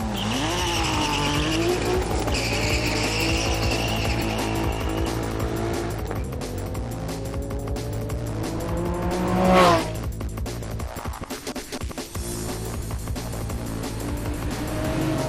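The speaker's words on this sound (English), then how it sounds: "Now for some straight line fun at the ADR Wheels drag strip test." Sport compact cars run at a drag strip with quarter-mile, 0-to-60 and 60-to-0 braking tests, giving loud sustained engine roar with rising revs and a harsh surge of tire squeal partway through.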